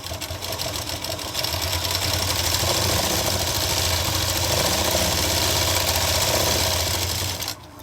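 Electric sewing machine running fast, stitching elastic onto a loose summer plazo, a steady rapid mechanical whirring hum that starts, holds for several seconds and stops abruptly near the end.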